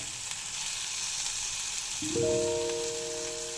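North Karnataka-style stuffed ridge gourd packed with onion-tomato masala fries in a pan with a steady, even sizzle; partway through, a short tonal hum rises over it.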